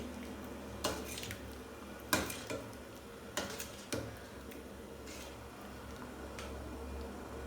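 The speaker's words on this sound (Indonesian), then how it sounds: "Diaduk-aduk lagi." A spoon knocks against a pot while rosella flower syrup is stirred, giving a few sparse, fairly quiet clinks and scrapes over a low background hum, with no voices.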